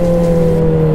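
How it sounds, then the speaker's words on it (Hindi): A Suzuki Hayabusa motorcycle engine holds a loud, steady, close-up drone with a strong low hum, unchanged throughout and with no voices. "इस बाइक की आवाज़ इतनी ज़्यादा लाउड है ना।"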